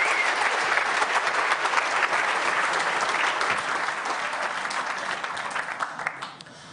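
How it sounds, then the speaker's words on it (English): Loud audience applause at a security conference talk, dense steady clapping that holds for several seconds and then fades near the end. "Applause."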